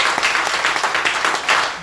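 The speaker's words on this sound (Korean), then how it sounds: "뜨거운 박수로 우리" A church audience gives a guest lecturer warm applause: a lively burst of many hands clapping, with fluttering peaks, filling the whole moment.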